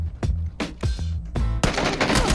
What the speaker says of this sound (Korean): 아 총소리